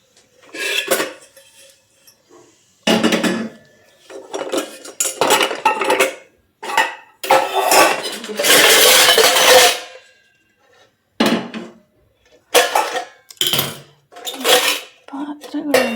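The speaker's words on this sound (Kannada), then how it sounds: "ಪಾತ್ರೆಗಳೆಲ್ಲ ದಬಾಕೋಬೇಕಾ? ಇಲ್ಲ ಅಂದರೆ ಇಷ್ಟು ಸೌಂಡ್ ಮಾಡುತ್ತೆ." Metal pots, pans and cutlery clatter loudly in a home kitchen in repeated bursts, with clanks, scrapes and rattles separated by short silences and one longer sustained crash of jostling utensils.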